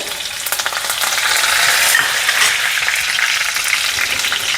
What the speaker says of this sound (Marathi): आता हा जिरा आणि मिरचीचा ठेचा टाकत आहे कढीपत्ता टाकते